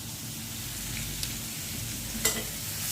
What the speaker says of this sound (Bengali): এই পাট শাক রান্না করবো অল্প করে।